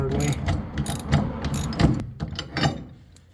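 A hand ratchet with a 9/16 socket tightens a bolt while a low-rise truck rack is installed over a truck bed cover, giving repeated close, rhythmic clicking bursts that fade toward the end.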